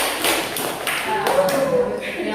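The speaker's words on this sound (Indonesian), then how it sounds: "Tepuk tangan dulu." Students in a classroom group lesson clap their hands together, giving a few loose rhythmic claps and taps, near and moderately loud, with voices talking over them.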